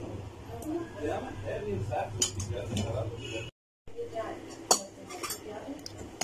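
A spoon clinks and scrapes against a bowl as flour and oil are mixed for laccha paratha dough, in uneven strokes with a short silent break partway through.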